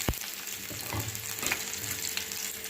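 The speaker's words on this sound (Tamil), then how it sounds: "எண்ணெய் நல்லா சூடான பின்னாடி இதில் வந்து கருவேப்பிலையும் கடுகும் சேர்த்துக்கலாம்." Curry leaves and mustard seeds fry in hot sesame oil, a dense close sizzle with scattered crackles and pops throughout, no voices present.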